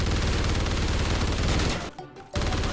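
Dense automatic rifle fire from the Ripper, a switchable SMG/assault rifle in Call of Duty: Ghosts multiplayer, a loud continuous burst that cuts out briefly before resuming.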